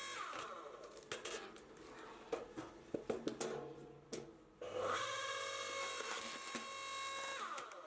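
A home hydraulic log splitter forcing through a log about 600mm across, with sharp cracks and splintering wood over a straining, humming machine tone that turns steady and tonal partway through, close and fairly quiet, with no talk.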